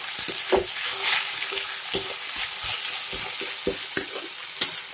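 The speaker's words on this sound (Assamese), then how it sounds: "ভালদৰে লৰাই সকলোখন দি দিম" A spoon stirring taro stem curry in a pot, rhythmic scraping strokes repeating about twice a second over a soft continuous sizzle, close and clear.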